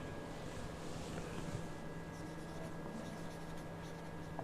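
Pen or marker writing formulas for median, quartiles, deciles and percentiles, a steady dense scratching that runs without a break under a constant background hum, faint and close, with no talking.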